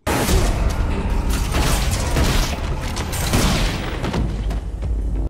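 Gunfire in a violent room scene from the Fallout TV series: a dense burst of heavy booms and rapid shots with mechanical clatter, loud and continuous throughout, no speech.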